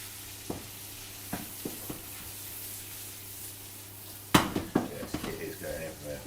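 Food sizzling steadily in a pan on an induction hob in a kitchen while surf and turf is cooked, with a few sharp clatters of pan and utensil, a louder burst of scraping and knocks near the end.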